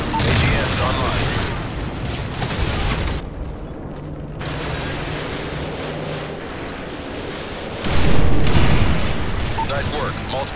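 Air-to-ground missiles from a Predator drone slam into a construction yard in Call of Duty: Modern Warfare 3, each heavy boom rolling out loud and rumbling over aircraft drone, with a fresh blast bursting in near the end.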